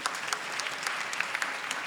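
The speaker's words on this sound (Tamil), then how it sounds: "அதுக்கு ஒரு கைத்தட்டல் கொடுக்கலாம், தப்பு கிடையாது" Audience applause fills a Tamil school anniversary debate hall, a dense steady wash of many hands clapping with scattered sharper claps standing out, no voices above it.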